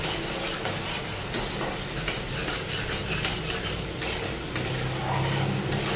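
Masala spices sizzle loudly in oil with a dense, continuous hiss while being stirred and scraped in a steady rhythm, close up and with no voices.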